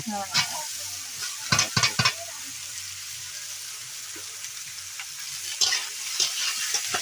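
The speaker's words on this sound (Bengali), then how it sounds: "বেগুন আর আলুটা ছেড়ে দিয়ে একটু ভাজা ভাজা হবে কি?" Eggplant and potato pieces frying in a pan over a wood-fired stove, a steady sizzle running throughout with a few louder stirring scrapes and clatters near the start and end.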